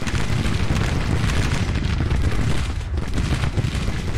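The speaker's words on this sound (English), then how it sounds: "I want you to fire on that battery" Artillery battery firing in a Civil War strategy game, a dense, continuous roar of overlapping booms and cannon blasts that stays loud and steady throughout with no pauses or talk.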